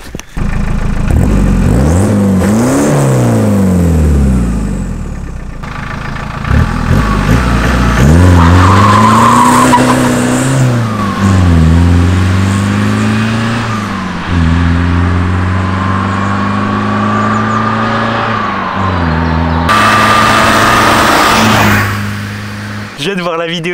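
A Citroën C25 Turbo 4x4 Groupe N van with a stainless exhaust line revs hard along a road, its engine note repeatedly climbing and dropping through gear changes as it drives past, loud and close throughout.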